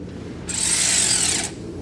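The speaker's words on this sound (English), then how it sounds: "So let's try use the ratchet here." A ratchet works an exhaust clamp on a catback exhaust being fitted to a Silverado 5.3L, giving one continuous, close metallic whirring burst of about a second amid quiet shop background.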